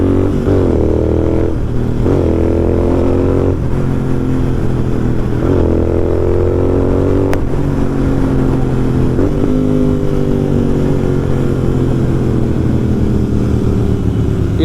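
Motorcycle engines roar close by as the ride sets off toward a forest, revving up through several gear changes in rising and falling surges that stay loud throughout.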